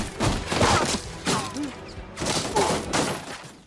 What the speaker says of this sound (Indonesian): lalu dilanjutkan dengan baku tembak